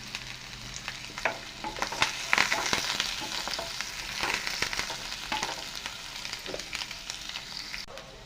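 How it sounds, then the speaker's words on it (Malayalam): Garlic sautéing with curry leaves in a pan for a Kerala-style prawn and ivy gourd stir-fry, a steady close sizzle with intermittent scraping stirs and clinks of a spoon, no voices. "വെളുത്തുള്ളി ഇതൊന്ന് നന്നായിട്ട് വഴക്കിയെടുക്കാം"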